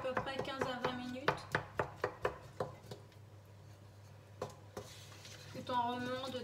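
A spoon stirs pear compote in a cooking pot, making a short run of soft rhythmic scrapes and knocks, close by and moderately quiet, with a voice heard briefly at the start and end.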